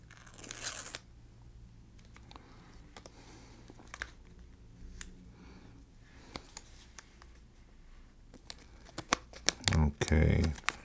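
Backing paper being peeled away in a few crinkly tearing bursts, with light tapping and handling noises, ending in a louder rip, while a person talks.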